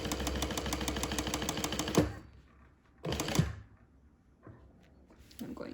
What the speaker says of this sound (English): I'm going to lower my needle, okay, and then go ahead and sew straight up.